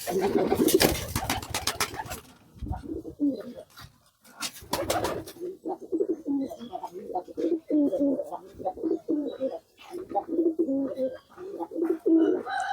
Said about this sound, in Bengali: আর বাকি কবুতরগুলো খাবারটা খাইতে আছে